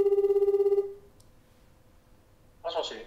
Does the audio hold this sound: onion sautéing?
no